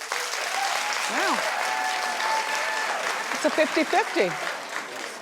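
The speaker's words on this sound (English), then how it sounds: "Now, clap if you have a tattoo." Studio audience clapping on a daytime TV talk show, a dense, steady wash of applause that runs the whole time while a host talks over it.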